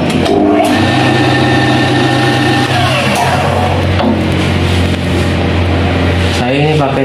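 Lathe-type machine spinning a tapered engine valve stem at 885 RPM, a steady loud mechanical hum and whine running continuously, with a person talking over it.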